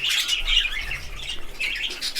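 A young budgerigar chirps in bright, rapid bursts of warbling, close and fairly loud, with short pauses between phrases and no voices.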